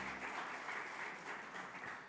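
A church congregation at an Easter celebration service claps together in a brief, soft, steady burst of applause heard from a distance.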